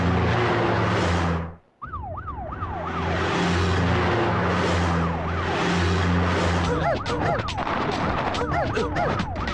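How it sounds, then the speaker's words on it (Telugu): Wailing emergency siren from a vehicle on the road, loud and close, rising and falling in repeated sweeps after a brief cutout, with a steady engine drone and a second overlapping siren joining near the end. "ఏంటి ఆ సౌండ్? సైరన్ సౌండ్ అండి."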